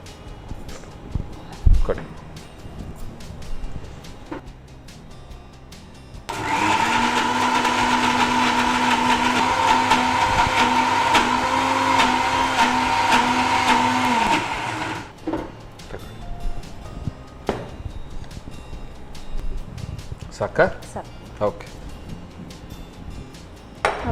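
A mixer grinder grinds roasted urad dal in one loud, steady whir of about nine seconds that starts and stops abruptly, with quieter kitchen sounds and talk before and after.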